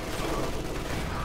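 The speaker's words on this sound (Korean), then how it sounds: "아, 또 총탄! 또 총탄을 쐈는데" Gunfire in the World War II strategy game Company of Heroes 2: a brief burst of rapid, rattling shots from a distance, dense and continuous, with no voices.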